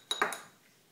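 A child eating with a spoon, a couple of quick metallic clinks of spoon against a dish or bowl, close and brief, fading into quiet.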